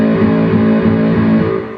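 A distorted electric guitar, strummed with two fingers and no pinky mute, rings out as a sustained, buzzing chord that slowly decays, close and loud.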